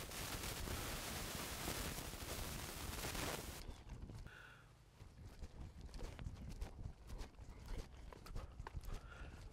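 Hooves of a trotting horse working over cavaletti poles, muffled thuds and clops under a loud rushing wind noise at first, then clearer rhythmic steps at moderate distance.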